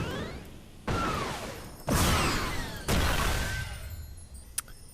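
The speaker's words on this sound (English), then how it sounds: "Minecraft Clunk gets a more arcade sounding shots." Arcade-style shots from Minecraft Clunk in Awesomenauts: three punchy blasts roughly a second apart, each with a descending whistle-like tail, then a small click, loud and close with no voices.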